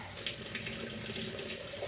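Warm tap water running steadily from a faucet into a sink for washing boots, a close, continuous rushing stream heard alone.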